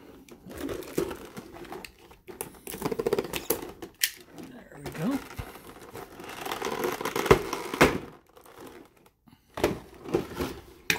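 Tape being peeled and pulled off the sides of a figure's plastic blister pack, with crinkly ripping and tearing bursts broken by short pauses, close up, while a person talks between the bursts.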